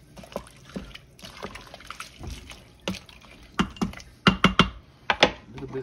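Water pours into a pot of pinto beans being cooked, in short irregular splashes and trickles that grow louder and more clustered toward the end, with no talk over them.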